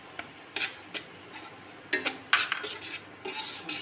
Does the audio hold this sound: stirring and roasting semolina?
yes